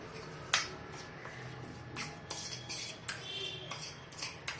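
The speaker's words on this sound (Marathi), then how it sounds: "आता हे सगळं आपण एक जीव करून घ्यायचं" A spoon stirs powdered sugar into a spicy chivda masala in a bowl, giving sharp metallic clinks and scrapes against the dish at an uneven rhythm, close and fairly quiet, with no talking.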